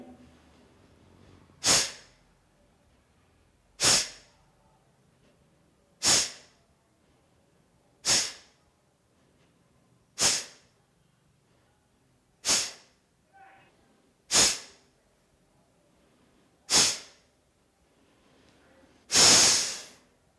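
Nine sharp, forceful nasal exhalations of Kapalbhati yoga breathing, spaced about two seconds apart, close and clear against a quiet room, the final stroke longer and louder.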